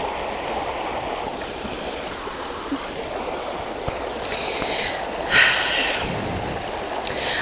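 A river flows with a steady, broad rushing wash of water, and a few brief splashes and faint knocks rise over the continuous flow.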